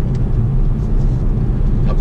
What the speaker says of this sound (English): I'm driving his car.